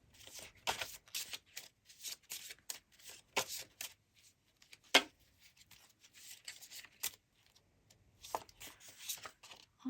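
Tarot-style cards shuffled for a pick-a-card reading, soft quick riffles and slaps in irregular bursts, close and quiet against near silence.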